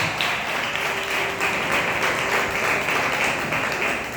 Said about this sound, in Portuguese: E exalte ao Senhor com as palmas calorosas para Deus.